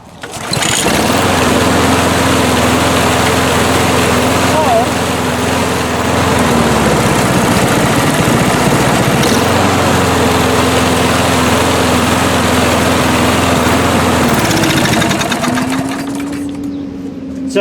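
A small lawn mower engine runs at a steady high idle while its governor return spring is adjusted, a loud buzzing drone whose pitch dips and recovers a few times over the run.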